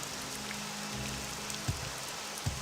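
Steady rain hisses across the whole clip at a low level in the video game Morrowind, with a couple of soft thuds near the end and no talking.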